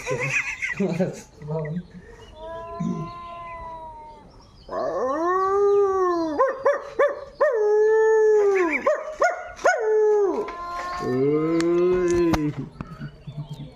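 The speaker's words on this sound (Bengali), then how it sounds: "কুকুরের শব্দ শুনে গেছে" A dog howls loudly in several long, wavering rising-and-falling cries, separated by short gaps, close by with some background noise.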